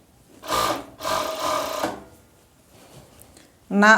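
A sewing machine stitches a long pajama sleeve in two quick bursts of rapid mechanical rattling, then stops. A voice speaks briefly at the end.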